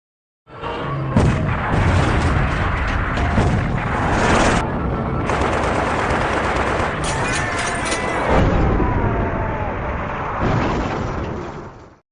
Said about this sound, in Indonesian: Aksi kejar-kejaran serta adu tembak pun tidak terhindarkan.